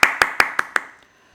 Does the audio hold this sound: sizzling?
no